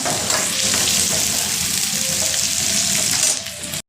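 Onion sizzles in hot oil in a pan, cooking toward browning for an egg and potato masala, in a dense, steady hiss close by, fading abruptly at the end.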